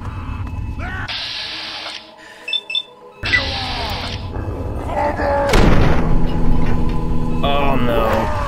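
Frag grenade explosions in Fallout 3 go off as loud booming blasts with rumbling tails, a heavier burst in the middle of the stretch, amid game noise and chirpy interface tones.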